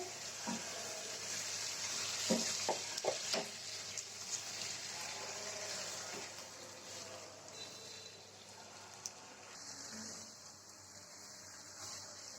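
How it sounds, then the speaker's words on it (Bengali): Half-boiled vegetables go into a frying fish curry with spices and salt: a few utensil knocks and clatters come early over a steady, moderate sizzle that continues. "আমি এখন সবজিটা দিয়ে দিব এখানে"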